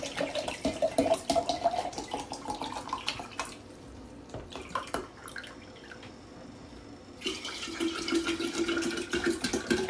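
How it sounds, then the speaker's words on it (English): Water pours from a tap into glass mason jars for making tea, a steady splashing fill that breaks off briefly midway and then resumes with a rising, ringing tone as the jar fills. "fill up the rest of my mason jars with water"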